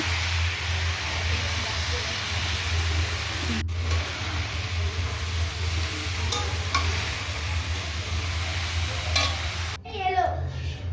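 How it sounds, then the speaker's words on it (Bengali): Cabbage curry with spices cooking in a pan gives a steady, continuous frying sizzle with occasional stirring scrapes. It sounds close and moderately loud, with a brief clatter near the end. "রান্নাটা বসিয়ে দিলাম এখন মশলা দিয়ে দিলাম বাঁধাকপিটা হচ্ছে"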